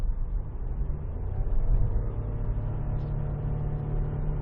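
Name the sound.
Toyota Yaris Cross Hybrid 130 accelerating at full throttle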